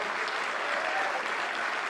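Steady, dense applause from a large audience at a live conference, welcoming a government minister onstage, filling the whole stretch at an even level with no voices.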